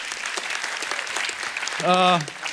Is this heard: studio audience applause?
yes